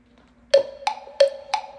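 Four evenly spaced metronome-style clicks count in a school band rhythm drill, each one sharp and distinct against near silence, with a faint steady tone beneath.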